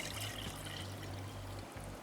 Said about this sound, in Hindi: तो इसमें हम ऐड कर देते हैं राइस